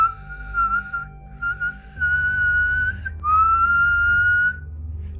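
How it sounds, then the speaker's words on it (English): A person whistles outdoors at a campsite, two long sustained notes with slight pitch bends, close and clear over a low steady hum. "That's the best whistle I've ever done in my life"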